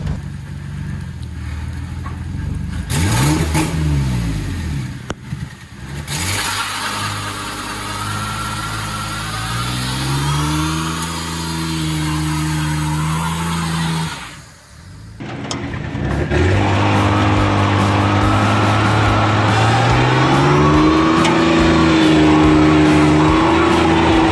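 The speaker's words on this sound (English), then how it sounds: "Let's do a burnout real quick." A twin turbo 1965 Ford Mustang revs hard for a burnout, its engine rising and falling in loud repeated surges with a brief dip mid-way, then sustained roaring revs, close and continuous.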